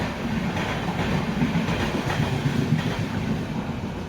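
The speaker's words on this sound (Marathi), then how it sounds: "गुजरातला जाणारी ट्रेन" A long nonstop passenger train bound for Gujarat rolls steadily past at close range, a continuous loud rumble with rhythmic clickety-clack of wheels over rail joints and some wind buffeting.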